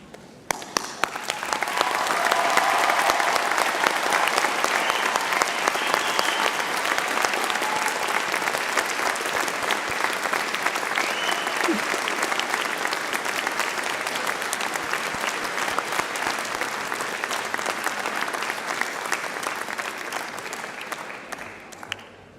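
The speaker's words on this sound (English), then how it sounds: "join me in giving them a well-deserved round of applause." Sustained, dense applause from a large graduation ceremony crowd, rising quickly after a quiet start, holding steady and loud for many seconds before tapering off.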